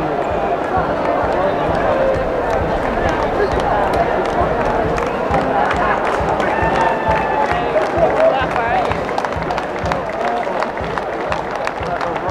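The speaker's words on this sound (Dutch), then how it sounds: "Die applaus voor het team uit Frankrijk, uit Zollemen." Spectators lining the Coolsingel in Rotterdam at the finish of the 2014 Roparun relay keep up steady clapping and cheering for an arriving team, with someone talking over the continuous crowd noise.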